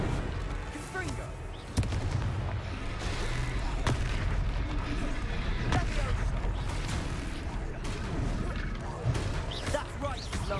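The Confringo blasting spell in Hogwarts Legacy during a fight, with sharp explosive cracks and booms hitting at intervals over battle clatter, while voices speak over the action.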